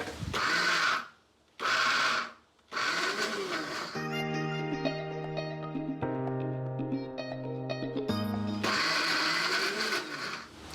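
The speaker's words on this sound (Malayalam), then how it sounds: "ഇത് രണ്ടും കൂടി ചേർത്തിട്ട് ഒന്ന് പൊടിച്ചെടുക്കാം, തരിതരിപ്പായിട്ട് പൊടിച്ചെടുക്കാം" A mixer grinder coarsely grinds grated coconut with jaggery in short, loud whirring pulses with brief pauses between them. Instrumental music then plays, and the grinder's whir returns near the end.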